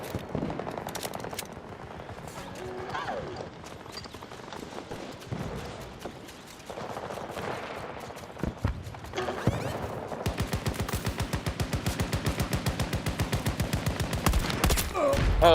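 Video game battle with bursts of sniper and machine gun fire, the steady rapid rattle of automatic weapons dominating the second half over a dense mix of game effects.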